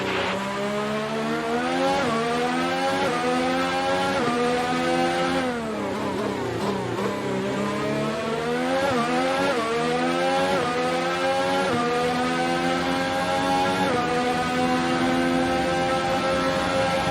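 An F1 race car engine in the F1 2019 video game at the Azerbaijan Grand Prix screams steadily, rising and falling through gear changes across the whole stretch with no pauses or talk.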